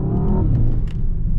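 A Mercedes S63 engine rumbles deep and loud from inside the cabin while driving, a steady low drone with a brief rise in pitch, no speech.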